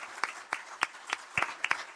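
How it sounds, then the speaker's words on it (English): Sparse hand claps from a small audience at a city council meeting, about eight distinct claps spaced unevenly over two seconds, fairly quiet and close. "let's give a round of applause for that one"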